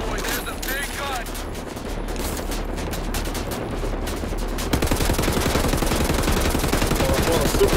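A big gun fires in the shooter game Wolfenstein: The New Order, with sustained rapid automatic bursts and heavy fusillade that grow denser and louder toward the end, a voice talking beneath at the start.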